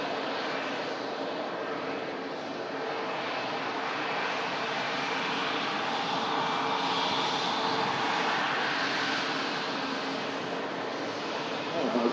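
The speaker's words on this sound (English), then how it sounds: "Nice wave there from the flight deck. Airbus A220." Airbus A220 passenger jet at an airport, a steady, broad engine roar holding at constant loudness throughout, with people talking faintly beneath it.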